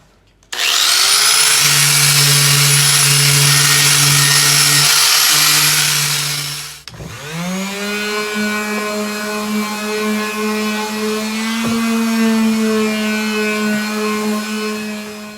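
A power tool strips old, worn stain from a wood board with a loud, steady high-pitched whine. It cuts out briefly partway through, then spins back up and runs on at a slightly lower pitch.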